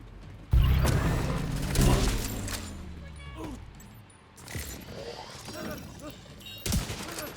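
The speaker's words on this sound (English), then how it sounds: "Setting up my turret." A deployable turret being set up in The Division 2: a loud mechanical clunk, then whirring, ratcheting servo sounds and clicks, with a few sharp bangs spread through the stretch.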